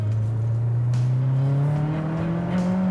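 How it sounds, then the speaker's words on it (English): Mitsubishi Evo 6.5 Tommi Mäkinen with a custom exhaust and crackle tune accelerating hard, the engine note climbing steadily in pitch from inside the car, loud and continuous. "you got the old crackle tune in it, so when you back off, it pops and bangs"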